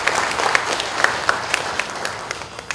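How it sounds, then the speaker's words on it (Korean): A live audience at a Busan civic monitoring group launch ceremony applauds warmly, with dense, steady clapping and a few sharper individual claps standing out, sustained throughout. "다시 한번 따뜻한 박수를 드리겠습니다."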